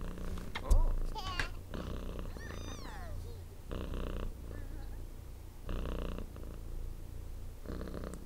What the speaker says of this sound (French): Tu ronronnes fort ce soir.